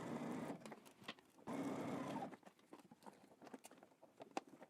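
A sewing machine stitches a 5/8-inch pant seam in two short runs of steady whirring, separated and followed by quieter handling clicks and taps, close and fairly soft.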